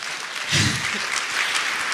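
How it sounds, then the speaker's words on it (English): Applause breaks out for a bill named at a bipartisan senators' event, a short burst of clapping from an audience lasting about two seconds. "we'd like to give you guys a round of applause for that"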